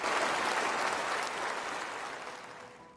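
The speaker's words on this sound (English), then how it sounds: "Prince William, future Antichrist, and Princess Kate applauding." Crowd applause for Prince William and Princess Kate rings out as a dense, sustained clapping that starts full and slowly fades over a few seconds, heard alone without speech.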